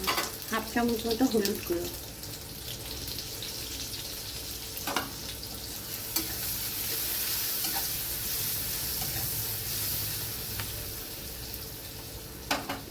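Onions fry in a pan with turmeric powder added, producing a constant, moderately loud sizzling hiss with occasional utensil scrapes; someone speaks briefly at the start, then the frying continues alone.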